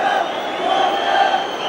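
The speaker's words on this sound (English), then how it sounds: "loud crowd here." A loud football stadium crowd at Manchester United versus Everton, a continuous roaring wall of cheering and chanting voices that holds steady throughout.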